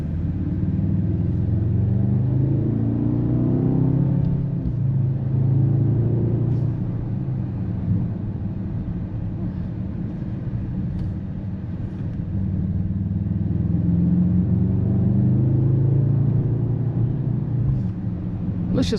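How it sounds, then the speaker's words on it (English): A Mercedes-AMG SUV V8 exhaust rumbles deep and steady, swelling in a couple of slow revs and settling back, heard close and continuous throughout. "Let's just listen to the V8 exhaust sound."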